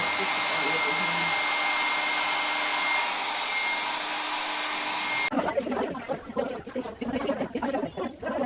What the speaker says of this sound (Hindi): अब हेयर ड्रायर से इसको सुखा लेती हूँ,